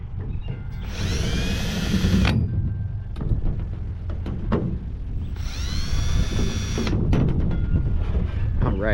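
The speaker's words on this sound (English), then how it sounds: "I gotta drill a hole straight through." Power drill boring a hole straight through nuts while fitting air horns: two sustained whining runs of a couple of seconds each, loud and close, separated by clicks and tool handling.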